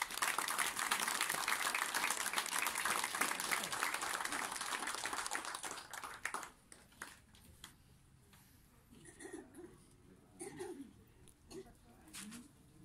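Warm applause from relatives at a family gathering honoring a father, dense clapping for about six seconds that fades into scattered claps, murmured voices and a few sounds from birds.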